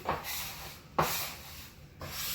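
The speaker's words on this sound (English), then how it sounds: "bring my bench scraper into the equation, and start to incorporate" Bench scraper working spinach pasta dough on a wooden board for tagliatelle, giving three short scraping strokes about a second apart, close and fairly quiet with no talk.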